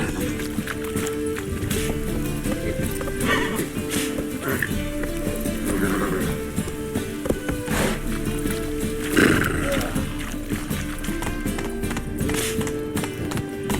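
A horse galloping in The Witcher 3 video game, rapid clip-clop hoofbeats running steadily under game music and ambience, with a voice speaking over it.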